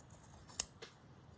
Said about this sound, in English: getting my better scissors